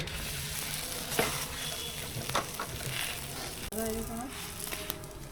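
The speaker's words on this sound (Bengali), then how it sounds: "এইভাবেই সব পরোটা ভেজে নেব" A square paratha sizzles and fries in a pan, a soft steady crackle with occasional clinks of a utensil and someone talking over it.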